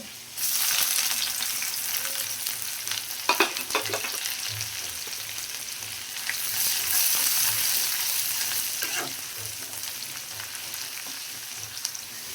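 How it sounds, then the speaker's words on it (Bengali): Onions go into hot oil in a pan for a Bengali fish curry, setting off a steady, close sizzle with occasional scraping stir strokes, continuing without talk for several seconds. "আমাদের তেল গরম হয়ে গিয়েছে, এবার পেঁয়াজ দিয়ে দিব।"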